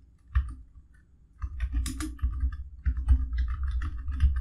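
Computer keyboard typing in quick, uneven bursts of close clicks, typing a message into a form on a freelance marketplace website, with short pauses between runs of keystrokes and no talking.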